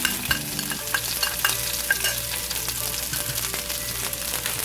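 Onions, garlic and red pepper sautéing in a tablespoon of olive oil over medium heat, a close, continuous sizzle with light utensil clatter and stirring, no voices.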